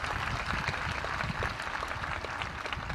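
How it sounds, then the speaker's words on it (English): Audience at a 2020 West Plains High School graduation ceremony claps steadily for a graduate, a dense, continuous wash of many hands filling the hall for the full stretch without pause. "Let's give her a round of applause."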